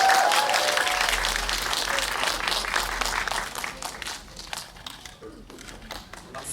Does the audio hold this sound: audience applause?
yes